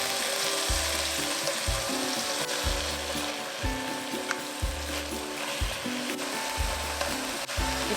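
Butter garlic shrimp sizzling and frying in a pan after a spoonful of white wine goes in, a steady crackling hiss broken by regular wooden knocks and scraping as the pan is stirred.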